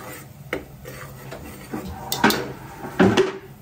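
Masala being sautéed and stirred in a pan before mutton goes into a cooker, heard as scattered scraping and clinking of a utensil against metal, with a louder knock toward the end.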